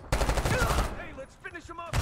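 Rapid gunfire in Call of Duty: Black Ops 6 crackles loud and dense for about a second, then thins into scattered shots and echoes before another burst opens at the end.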